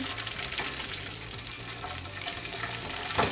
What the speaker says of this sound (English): Next we're going to put in the rice. So we're going to put our rice in.